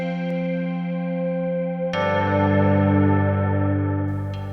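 A sustained electronic tone rings out with a lush, echoing reverb tail from the QuadroSphere iOS app, then a new chord enters and blooms into a wide, reverberant wash.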